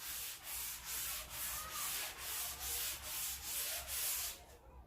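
Light hand sanding of wood on an old salvaged coffee table, with no pressure applied: steady back-and-forth rasping strokes in an even rhythm, close and clear with no talking.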